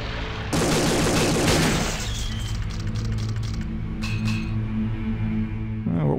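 Bursts of rapid gunfire from the Shadowgrounds video game, a loud dense volley of shots in the first two seconds followed by scattered sharper shots and clinks over a steady low game hum.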